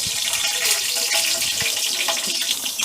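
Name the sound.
green chillies frying in tempering with cumin, mustard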